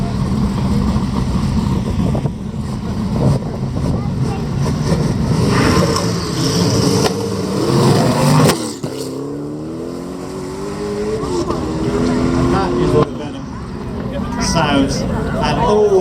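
A Venom F5 roadster supercar accelerates hard up a hill climb course, its loud engine note rising through the gears and roaring past, with crowd babble and a commentator talking over it throughout.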